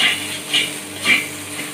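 Banana stem stir fry cooking in a kadai, soft sizzling with three scraping stirs of a spatula at a slow, even rhythm, close and fairly loud.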